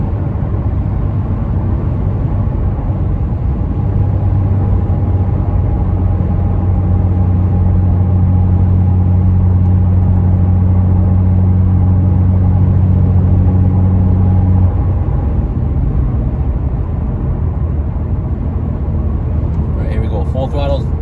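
A car with a tuned LF4/LF3 engine holding full throttle, a loud continuous engine drone with steady low tones lasting most of the run before easing off, alone with no talk over it.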